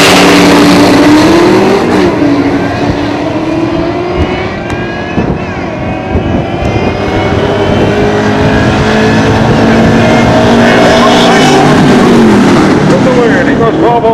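A 1985 Mustang and other drag racing cars at Toronto Motorsports Park, loud high-revving engines with gliding pitch sweeps as they accelerate down the strip, an announcer talking over the roar.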